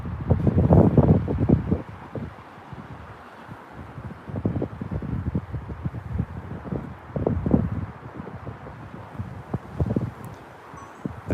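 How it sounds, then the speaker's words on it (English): Gusts of wind up to 40mph at Newcastle Airport thump and rumble against a phone microphone in uneven bursts, loud at first, then easing and returning intermittently. "it's getting a bit windy again"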